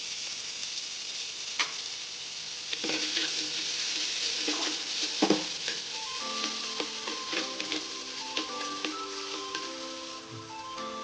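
Bay leaf and ginger garlic paste sizzling in hot oil for biryani, a steady hiss broken by sharp clicks and clinks, with faint tonal sounds in the background.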